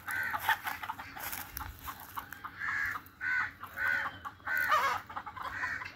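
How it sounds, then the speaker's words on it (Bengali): Several chickens cluck and crow in short repeated bursts, fairly close, over a busy background of scattered poultry noise. "দেখছেন, এগুলো সব মুরগি"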